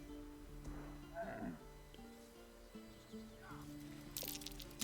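A cow in Baldur's Gate 3 gives a low moo, heard briefly beneath steady game music and ambient background sound.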